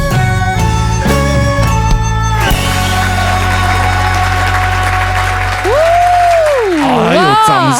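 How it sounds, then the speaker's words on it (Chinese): A TV studio audience at a Taiwanese singing contest show breaks into loud, sustained applause that swells and carries on beneath music and sliding vocal tones. "掌声如雷啊！"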